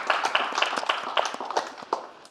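An audience claps for a married couple at a comedy roast, a short burst of scattered, moderately close hand claps with no talk over it.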